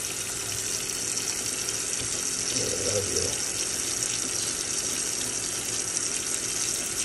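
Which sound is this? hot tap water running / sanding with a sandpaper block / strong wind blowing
hot tap water running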